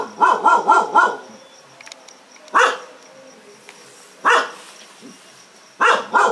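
A dog barks several times: a quick run of barks at first, then single barks spaced a couple of seconds apart, fairly close.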